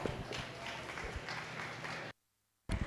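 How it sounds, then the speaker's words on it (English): A crowd at a county swine show applauds the kids showing pigs, a quiet, even spatter of clapping that cuts out briefly to silence before resuming. "Give those kids a big round of applause."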